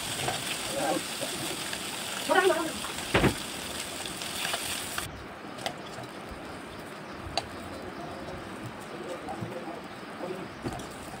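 Small river fish fry in hot oil with a continuous, close sizzle and crackle, broken by a few sharp clatters partway through.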